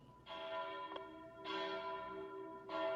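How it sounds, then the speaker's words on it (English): A phone notification chime rings out in bell-like tones, three separate rings each with a lingering decay, fairly faint with no talking over them. "Would someone please turn off their notifications before I choke you through the camera?"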